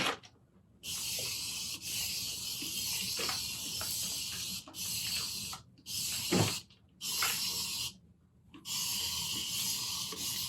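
A handheld spray bottle of water mists in repeated short bursts, each a close, breathy hiss separated by brief pauses, with no talking.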